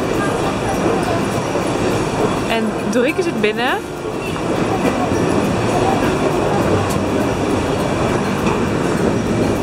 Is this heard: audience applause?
no